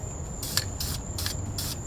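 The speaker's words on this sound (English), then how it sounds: "So I spray, lift my finger, then put it back down for the other 50-50." Spray paint can coating a Camaro car badge in four short, evenly spaced hissing bursts, each about a quarter second long, close to the mic with faint background hum between them.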